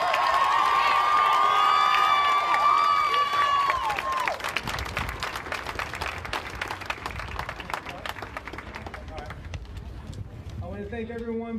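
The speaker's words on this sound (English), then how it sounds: "just round of applause for you guys" Crowd applause and cheering at a Denver Black Lives Matter protest, with a loud voice and whoops over dense clapping early on, then sustained outdoor clapping and crowd noise as the talking drops away.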